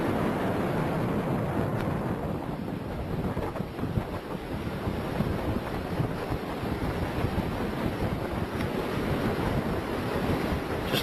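Ocean surf at a beach in Brazil below a seaside condo building, a steady loud roar of breaking waves mixed with gusty wind buffeting the microphone, continuous throughout with no voices.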